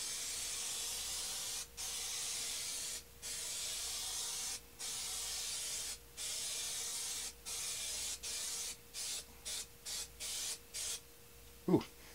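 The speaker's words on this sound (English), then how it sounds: "I've put a light spray of the glue on the back of my picture" Spray adhesive hisses from an aerosol can onto the back of a picture for a cardboard playset, in long steady bursts that shorten into quick spurts toward the end, close and fairly loud.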